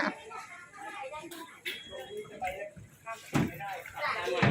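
A door is shut with a sharp thud partway through, on a group boat outing, amid nearby chatter and movement from people boarding.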